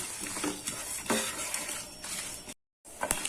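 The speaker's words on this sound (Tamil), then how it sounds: "ரெண்டு லவங்கம் அஞ்சு காஞ்ச மிளகாய் போய் இதை நம்ம வறுத்துக்கலாம் ஃப்ளேம் மீடியமாக வச்சு" Cloves and dried red chillies dry roasting in a pan over a medium flame, with a steady close rasp of frying, several spoon scrapes and clinks against the pan, and a brief dropout near the end.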